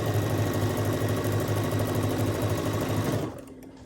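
A sewing machine runs steadily and loudly up close while stitching quilt block pieces, a continuous whirring hum that stops abruptly near the end.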